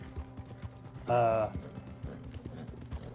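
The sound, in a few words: horse hooves in video game Red Dead Redemption 2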